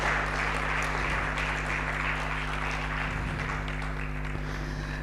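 A sustained round of audience applause greets a speaker taking the stage at a public leaders' alumni gathering, a thick continuous clatter of many hands with a steady low hum underneath and faint murmurs.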